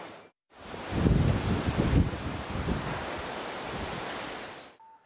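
Strong wind roars and buffets continuously for several seconds, loud and close, at a construction site in Hino City, Japan, during a strong wind advisory, gusting hardest early on before holding steady, then cutting off.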